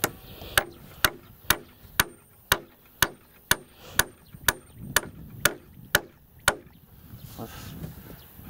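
Nails are hammered into wood at an outdoor camp, a steady run of about fourteen sharp, evenly spaced blows roughly half a second apart, close and loud, tapering off to quieter rustling at the end.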